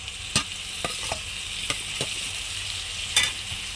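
Tomato and spices go into a frying pan, giving a soft, steady sizzle broken by a few sharp scrapes and knocks of stirring, loudest near the start and again toward the end.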